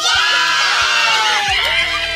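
A cartoon crowd of schoolchildren cheers and shouts loudly and continuously, a dense wall of excited voices with whoops and yells rising over it throughout.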